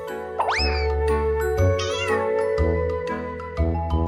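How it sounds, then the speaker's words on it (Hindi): A cat meows several times close by, with rising, plaintive calls over a steady musical background. "जरा इसकी आवाज सुनो, ये कितने प्यार से म्याऊं कर रही है"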